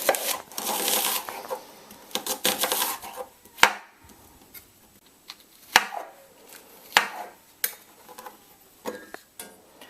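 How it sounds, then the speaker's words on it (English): A knife chops pizza toppings on a cutting board for a homemade pizza, a burst of quick dense cuts followed by slower separate knocks, close and fairly quiet, with no talking. "I'm going to cut."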